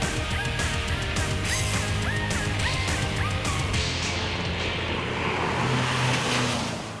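A 2014 Renault Duster AWD driving hard with oversteer and throttle play, engine drone and road noise loud and steady throughout, with faint chirping tones over the first half.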